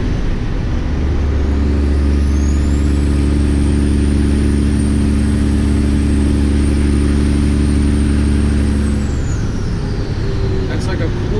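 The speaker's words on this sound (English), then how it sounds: "That's like no throttle." Kenworth W900 turbo truck engine held at light throttle, a loud steady low diesel drone with a thin high whine running above it for several seconds before easing off near the end.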